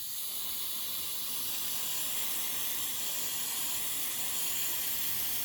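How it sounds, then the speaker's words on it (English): Brake cleaner sprayed onto a transmission drain area during a CVT fluid service on a 2016 Honda Civic EX, giving a steady, loud, unbroken aerosol hiss that runs the whole time with no talking. "And then give it a spurt of brake clean."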